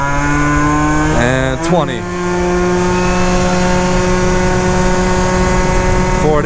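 A Minarelli scooter engine on a Phantom F12 holds a loud, high, steady rev with a brief dip and climb in pitch, close up, while someone speaks a few words over it.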